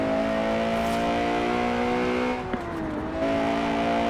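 Steady engine drone of a car in the Forza Horizon 4 racing game, holding a sustained pitch with a brief dip and shift midway as it changes gear, then settling back to a constant loud hum.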